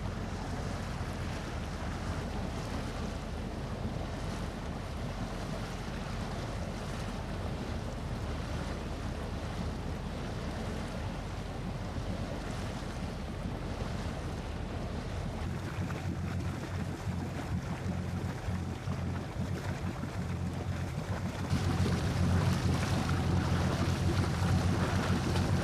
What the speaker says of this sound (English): The daily ferry service from Turku to Stockholm,